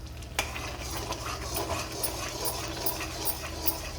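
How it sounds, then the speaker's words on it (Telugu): A spoon stirs a badam halwa mixture in a pan, giving soft, quiet scraping with faint sizzling beneath and a light clink near the start. "ఇలా బాగా కలుపుకోండి ఫ్రెండ్స్."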